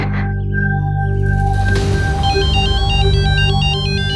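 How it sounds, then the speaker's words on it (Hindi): A telephone rings during a call, a repeating electronic ringtone with a warbling, stepped pattern that comes in partway through and continues steadily over a constant background drone. "बीजी, मैं सुखी को फोन करती हूँ, ये बिजी रहेंगे।"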